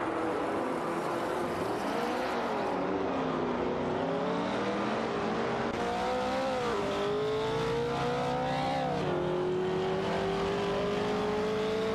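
Race cars accelerating during a race, engine notes rising and shifting in pitch through repeated gear changes, a continuous loud drone without any talk.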